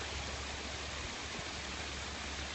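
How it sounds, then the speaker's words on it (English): A big waterfall display beside a koi pond in a water feature showroom gives a steady, dense rush of falling water, constant and fairly soft. "Big waterfall display."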